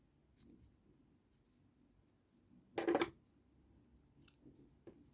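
Scissors cut crochet yarn with a single quick snip, faint and close, amid soft rustling handling sounds.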